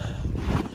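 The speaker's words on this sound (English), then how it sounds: "you can hear the wind probably" Steady, blustery wind rushes across the microphone after a snow storm, a low continuous roar with no other sounds.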